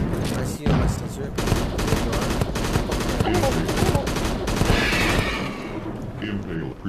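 Rapid burst-fire gunshots in the virtual reality game Crashland VR rattle out in tight repeated volleys, fairly loud and continuous across the stretch, while someone talks over them.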